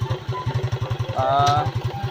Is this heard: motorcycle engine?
yes